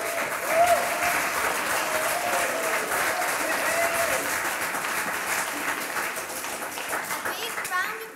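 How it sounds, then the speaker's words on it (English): Audience applause at a primary school pantomime of The Emperor's New Clothes, sustained clapping from a crowd of adults and children filling the hall for several seconds, with children's voices mixed in. "Please put your hands together for the footmen."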